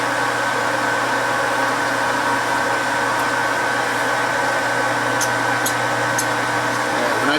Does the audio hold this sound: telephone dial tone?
no